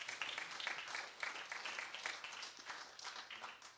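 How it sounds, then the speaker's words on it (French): Audience at a corporate product roadmap event applauding, a steady, dense wash of clapping sustained throughout at moderate level, with faint voices mixed underneath. "Vous pouvez vous applaudir."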